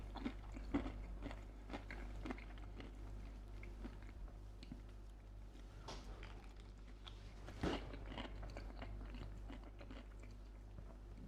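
Breaded Aldi pollock fish fingers crunch between the teeth in repeated close, crisp bites and chewing, fairly quiet over a low hum, with no talking.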